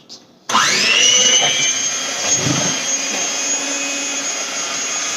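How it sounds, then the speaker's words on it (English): Electric hand mixer blending peanut butter cookie dough, starting abruptly after a short pause and running as a loud, steady whir with a high motor whine. "then we're going to blend it again with the mixer"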